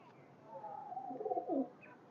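Highflyer pigeon giving a short, soft coo at close range, a brief warbling call rising and falling over about a second against quiet background.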